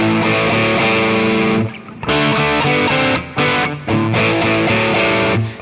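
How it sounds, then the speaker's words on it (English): Distorted electric guitar plays the chugging rhythm part before the solo of a song, loud and alone, in bursts of two-string chords with brief gaps where the notes cut off. "I want to cover the solo little rhythm part,"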